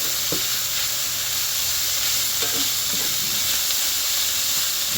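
Corned beef sizzles in a cast iron pan with a continuous hiss and crackle, punctuated by a few scrapes of stirring.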